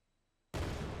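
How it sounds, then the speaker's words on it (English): Grenade explosion in an Unreal Engine 5 game test: silence, then a sudden loud, full-spectrum blast that holds its roar to the end of the one-second clip. "chuck this grenade, and you should be able to hear an explosion now"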